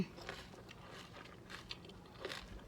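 Someone chews food dipped in Lao jeow sauce close to the mic, with soft, irregular crunchy bites and mouth noises over a quiet background.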